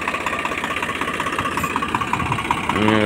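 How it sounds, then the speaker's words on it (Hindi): A Swaraj 855 tractor engine idling close by, a steady low chugging rhythm of rapid regular thumps that swells slightly louder near the end. "ट्रैक्टर अपना शिवराज आठ सौ पचपन"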